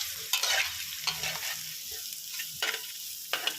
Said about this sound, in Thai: ใส่พริกลงไปผัดให้หอมนะครับพริกที่เราคั่วนะครับ